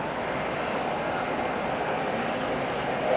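A Jetstar airliner on its flight from Christchurch approaches Auckland Airport, a steady, moderately loud broadband engine rumble and roar holding evenly throughout with no voices.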